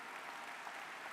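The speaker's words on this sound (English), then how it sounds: "Give your parents, yourselves, your family, your village, and all of your support system a round of applause and a standing ovation, please." Graduation audience applauding at a high school commencement, a steady dense wash of many hands clapping, fairly distant and quiet with no voices on top.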